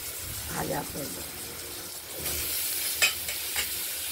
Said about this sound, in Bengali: এরপর আলুগুলো দিয়ে একটু নাড়াচাড়া করবো।